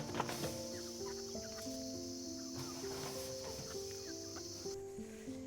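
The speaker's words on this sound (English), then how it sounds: "these chickens will be future layers" Young chickens kept as future laying hens on a homestead cluck steadily, with overlapping tonal calls from several birds at close range.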